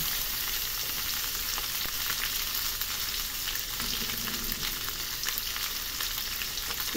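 Boiled chicken liver and gizzards with meat fry in a pan for Filipino adobo, giving a steady close sizzle with occasional stirring scrapes and no voices.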